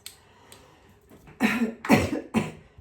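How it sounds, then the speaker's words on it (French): Three harsh coughs in quick succession, close and loud, after a couple of faint breaths. "Je tousse toujours."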